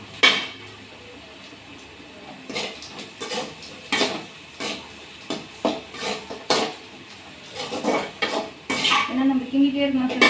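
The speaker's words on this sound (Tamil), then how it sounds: "நம்ம கிண்டிகிட்டே இருக்கணும் ஃப்ரெண்ட்ஸ்." Onions stirred in a pan on a gas stove, with scraping utensil strokes and clinks against the cookware in an irregular rhythm, close and moderately loud.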